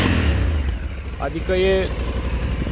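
A Honda Africa Twin motorcycle engine rumbles with a deep, steady low tone while a person speaks briefly over it.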